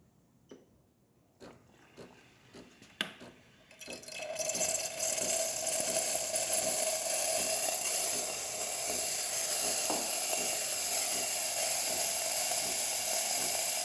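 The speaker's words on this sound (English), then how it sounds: "Now we're going to be testing the steamer." Breville espresso machine steam wand steaming, a few clicks and knocks first, then a loud, steady hissing rush with a sustained tone that carries on unbroken to the end.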